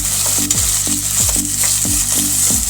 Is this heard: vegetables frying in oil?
yes